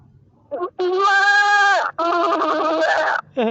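A human voice imitates a goat with two long, loud, trembling bleats, framed by brief vocal sounds at the start and end, close and clear against a quiet background.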